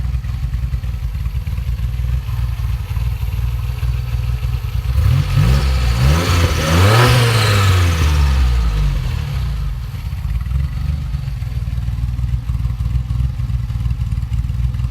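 The original PRV V6 engine of a DeLorean runs steadily with a loud, close mid-range drone, briefly revving up and back down in the middle before settling to a constant running note; no one speaks.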